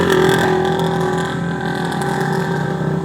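A Suzuki Raider 150 Fi motorcycle engine drones steadily and fairly close, with a constant buzzing tone and a slight rise at the start. No one speaks.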